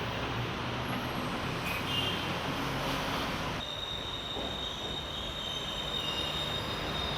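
Interior of a Bangkok metro train while riding: a steady, broadband rumble of wheels on rails and car noise fills the whole stretch, with faint high squeals and a slight shift in tone partway through, no voices.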